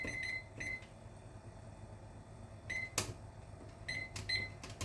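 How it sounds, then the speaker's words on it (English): A kitchen timer is set with clusters of short, high electronic beeps, a few quick presses near the start, middle and end, in a quiet kitchen. "I'm going to go ahead and set myself a timer."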